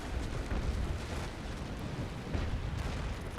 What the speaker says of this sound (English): My cannonballs are bouncing off of his hull.